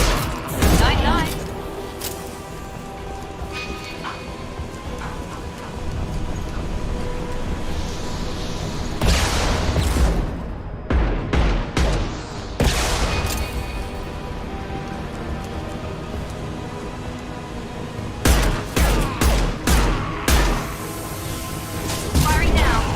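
Gunfire at night, with bursts of loud booming shots clustered near the start, around 10–13 seconds and again near 18–22 seconds, over a constant rumbling background.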